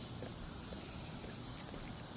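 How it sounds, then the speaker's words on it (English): Crickets or locusts chirp outdoors in the background of a walk, a thin continuous high-pitched trill held steady and fairly faint beneath soft low rumbling. "what are those, locusts, crickets, whatever's making all the noises in the background"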